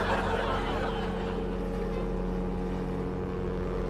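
A ship's engine gives a continuous low, droning hum with steady harmonic tones and a hissy wash above it. It stays loud and unchanging from start to finish, with no clear speech.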